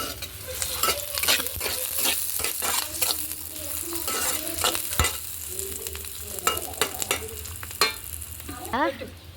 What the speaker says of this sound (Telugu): నూనె కూడా వేడైంది ఉల్లిపాయలు పచ్చిమిర్చి వేయించుకుందాం చూడండి